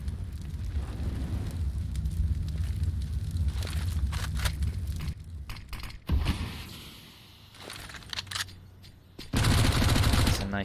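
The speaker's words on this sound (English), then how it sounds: "It's a nice nade from Thomas." A grenade explodes during a competitive CS:GO match, a loud burst of blast noise rising sharply near the end over steady game rumble and scattered mechanical clicks.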